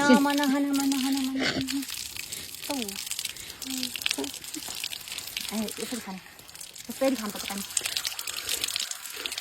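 Water runs from a village tap in Ribdikot, Palpa, Nepal, as a steady close splash and hiss that continues under frequent chatter from several people.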